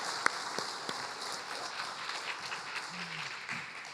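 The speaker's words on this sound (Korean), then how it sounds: "우리 박수로 힘차게 축복하겠습니다" A church congregation at a Sunday service applauds to bless a baby, the clapping faint and diffuse like a soft wash of sound. A brief murmur of voice rises near the end.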